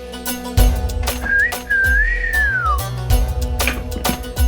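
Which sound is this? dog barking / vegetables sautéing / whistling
whistling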